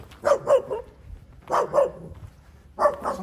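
Three bursts of sharp, high-pitched barking from a small dachshund, two or three yaps each, close and loud with short pauses between.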